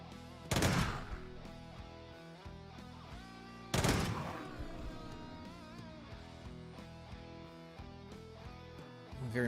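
Automated turret in Quasimorph opening fire in two sharp, loud bursts a few seconds apart, each followed by ringing, decaying tonal game sounds.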